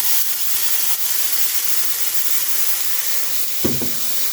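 Onions being sautéed in sauce in a pan give off a steady, loud, hissing sizzle that holds evenly throughout, with one brief knock near the end.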